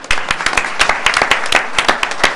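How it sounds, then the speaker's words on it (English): Applause fills a school board meeting as a teacher is honored, a room of people clapping with distinct individual claps in an irregular patter, fairly close and steady, with no speech over it. "She deserves two rounds of applause for sure."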